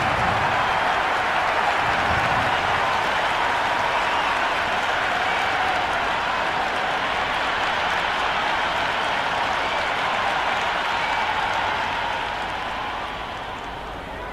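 Steady, dense crowd applause fills a cricket stadium in the video game Cricket 26 as the players walk out for an IPL match between PBKS and RCB, broad and continuous before easing slightly at the end.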